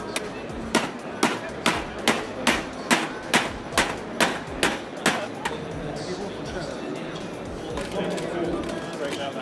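Metal hammer blows on a classic car body panel during panel beating, about eleven sharp, evenly spaced strikes in quick succession, then the hammering stops and a quieter workshop background continues.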